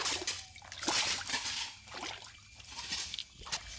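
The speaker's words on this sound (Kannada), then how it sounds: "ಚಿಕ್ಕ ಕೊಳ ಇದೆ ನೋಡಿ, ನೀರು ಹೋಗ್ತಾ ಇದೆ" Water runs through a small pond on an areca nut farm, making a steady, close splashing trickle with uneven surges and small slosh-like bursts throughout.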